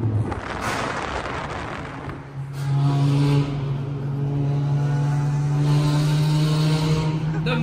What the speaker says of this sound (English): That's the Miata.